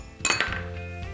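Chickpeas, cabbage and capsicum are tossed in a pan for chana hakka noodles: a couple of sharp metallic clinks of utensil on pan, then a steady close sizzle with no talk.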